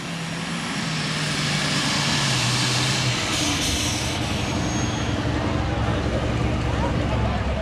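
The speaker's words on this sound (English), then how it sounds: "Running about 4 turbos, sitting underneath the hood, 2 stacks, bringing up the motor." Super stock pulling tractor engine with four turbos under the hood and two stacks, a dense, loud, continuous roar and turbo whine swelling as the revs climb at an outdoor pull, with a voice talking over it.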